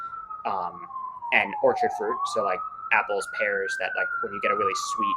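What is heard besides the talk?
siren passing outside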